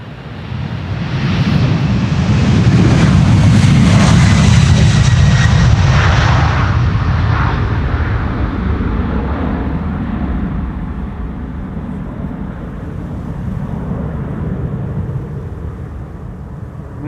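A United Airlines Boeing 767 bound for Houston takes off from Polderbaan runway 36L at Amsterdam Schiphol in windy weather, a loud, close jet roar that peaks early and then fades slowly as it climbs away.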